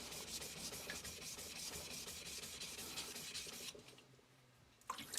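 A single-bevel Tsubazo deba knife is worked on a coarse sharpening stone, giving a faint, steady rasping scrape from a run of strokes that stops, then a brief touch at the end.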